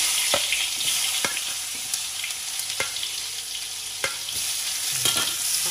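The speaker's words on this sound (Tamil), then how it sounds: "தக்காளி பழம் வதங்கணும்" Tomatoes sautéing in hot oil for idi sambal give a steady close sizzle, with occasional sharp scrapes and taps of a stirring spoon in the pan.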